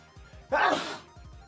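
One loud sneeze, close and sudden, preceded and followed by quieter background sounds.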